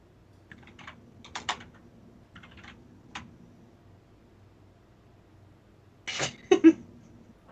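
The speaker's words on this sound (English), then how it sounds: "I hear you typing." Typing on a computer keyboard in short scattered bursts of light clicks, quiet and somewhat distant, with a louder cluster of keystrokes near the end.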